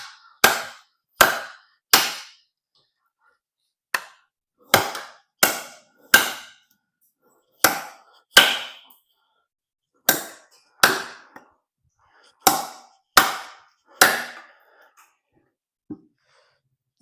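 A GTKii GTK10 knife with a DC53 steel blade chops into wood, about fourteen sharp, close, loud strikes in an uneven rhythm, some in quick pairs or triples, with near silence between them.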